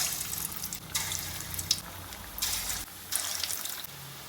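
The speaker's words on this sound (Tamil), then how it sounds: "எண்ணெய் நல்லா சூடேறவும் உருண்டையை போடணும்." Beetroot kola urundai balls drop into hot oil and fry, giving a continuous hissing sizzle that swells in bursts as pieces go in, close and moderately loud.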